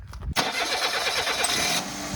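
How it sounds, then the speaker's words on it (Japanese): A car engine cranks and fires up after a brief quiet moment, then runs steadily and loudly close by; the engine's oil has been replaced with detergent as an experiment. "それではエンジンをかけていきます。"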